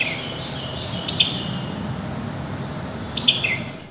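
Birds such as the wood thrush call along the wooded Pocomoke River, with two short, bright chirping bursts over steady outdoor background noise.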